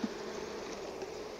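Honeybees at an opened hive just after smoking, a faint steady buzz that fills the scene evenly, with a slight low hum and no voices.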